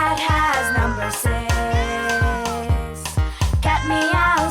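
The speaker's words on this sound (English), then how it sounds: "Cat meow 6 times." A cartoon cat meows loudly and clearly in a quick run of repeated calls in a children's educational program, with music playing underneath.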